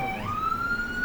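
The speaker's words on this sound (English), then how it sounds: "Hey, y'all hear the sirens?" An emergency vehicle siren outside wails in a rising, steady tone over a low rumble of road traffic, heard at moderate distance.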